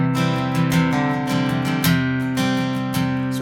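An acoustic guitar plays a song using C-shape chords, strummed continuously and evenly, close up and alone.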